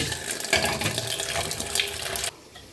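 Something is washed under a running kitchen tap: a steady close splashing stream of water with shifting surges, which stops abruptly near the end, no voices.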